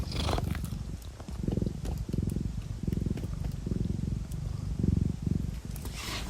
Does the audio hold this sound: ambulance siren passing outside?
no